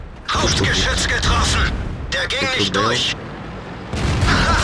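Heavy tank cannon blasts boom out in a game, with someone talking excitedly between and over the shots.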